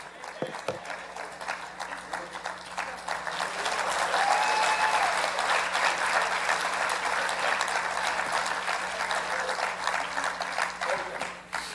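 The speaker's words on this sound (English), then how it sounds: "Everybody clap your hands." A church congregation at a sermon claps their hands in sustained, dense applause that builds and holds steady, with a few faint voices and room hum mixed in.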